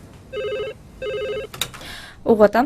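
An old telephone bell rings in two short, evenly spaced bursts, loud and close, followed by a clatter as the receiver is lifted and someone speaks.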